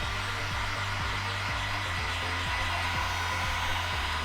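A heat gun or hair dryer blows a steady, loud whooshing hum at close range while heating tint film on a Nissan Patrol Y62 tail light, with faint rhythmic ticking under the constant airflow.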